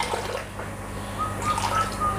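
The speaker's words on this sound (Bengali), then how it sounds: "এই যে আমি ট্যাঙ্কি থেকে পানি নিব এখন" Water is drawn from a biofloc fish tank into a measuring container, about 160 ml, giving a soft, steady watery trickle at moderate level with no voices over it.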